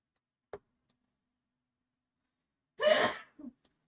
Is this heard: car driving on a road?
no